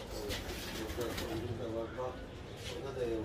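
Tumbler pigeons cooing softly in a loft, low repeated coos underneath nearby conversation in a small indoor space.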